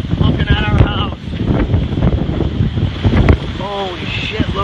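Hurricane Irma's wind and waves surge across a Florida canal in September 2017, a loud, constant gusty roar and wash buffeting the microphone, with people talking excitedly over it.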